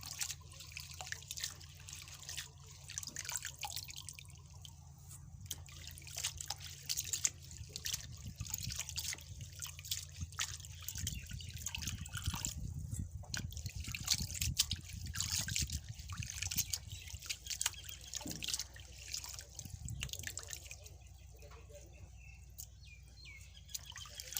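Seaweed is washed by hand in water, with faint trickling, dripping and soft splashing that carry on throughout at low volume.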